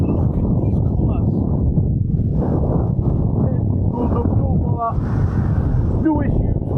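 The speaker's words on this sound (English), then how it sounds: "It might be windy" Cold wind gusting across open hills in the Southern Uplands buffets close to the microphone in a continuous rumbling roar, while a person talks over it.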